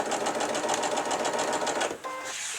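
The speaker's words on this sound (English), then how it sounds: "So I'm going to keep sewing for now," A sewing machine stitches a sunflower trivet, a loud, close, continuous motor whir with a fast rapid chatter that stops abruptly near the end, leaving a quieter hum.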